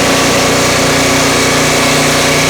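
A Turbosawmill chainsaw attachment cutting a sticky, knotty pine log, the engine roaring loud and steady at high revs with a dense buzzing whine throughout.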